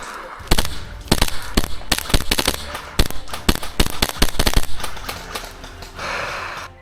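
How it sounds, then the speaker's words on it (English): An airsoft gun called the Cthulhu, set to semi-auto, fires in rapid irregular bursts of sharp cracks, bump firing and double feeding, with brief gaps between clusters of shots and faint breathing. "that's the bump firing issue I was on about. So you pull semi, it will automatically almost double feed"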